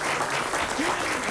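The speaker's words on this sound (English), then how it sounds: "let's give them a big round of applause" A quiz bowl audience applauds, giving steady, dense clapping from a crowd that holds at an even loudness throughout the short stretch.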